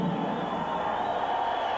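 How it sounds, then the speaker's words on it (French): Spectators cheer on Linden, a Canadian competitor and one of the favourites, at a 2002 international competition, a sustained roar of crowd noise with no breaks. "écoutez la foule qui encourage Linden, un des favoris"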